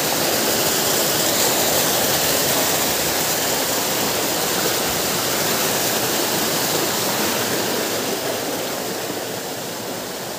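A cold forest stream rushes steadily along its own channel, a loud, dense, continuous wash of flowing water close by, with no voices over it.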